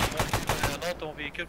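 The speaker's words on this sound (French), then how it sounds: "j'ai reçu des tirs de véhicules" Rapid bursts of automatic gunfire from vehicles in a military shooter game crackle close and loud for under a second, then give way to faint tonal radio-like sounds.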